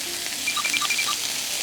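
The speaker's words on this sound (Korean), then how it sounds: "살짝 연기 올라오면은 고기 먼저 넣을게요." Marinated meat stir-fries in a pan over high heat, a close, steady sizzling hiss with a few faint clinks on top.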